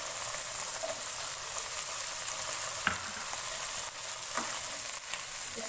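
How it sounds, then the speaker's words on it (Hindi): Peas and then carrots frying in a pan for chicken fried rice, a steady close sizzle with a few brief stirring clinks and scrapes, no voices. "दो 3 मिनट मटर फ्राई करने के बाद मैं इसमें गाजर शामिल करूंगी।"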